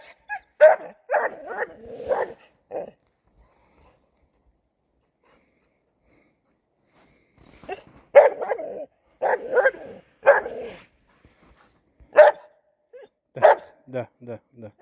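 Laika hunting dogs bark outdoors in strong wind, two bursts of repeated close barks and yelps separated by a quiet pause, ending with whimpering yips.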